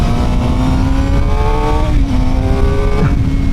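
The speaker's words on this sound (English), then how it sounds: "howl is so awesome with this bike" A Suzuki GSX-R 750 motorcycle engine howls loudly and continuously while riding, its pitch climbing through the revs with shifts between gears, with steady wind rush underneath.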